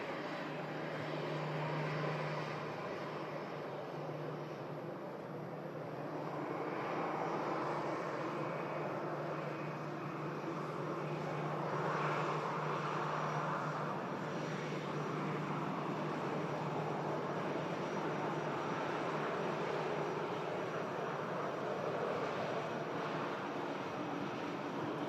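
An Airbus A380 departs Manchester Airport in stormy weather, a low continuous engine rumble heard faintly and from a distance that swells gently and then eases over the whole span.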